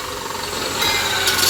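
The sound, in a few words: belt grinder shortening a fuel tank filler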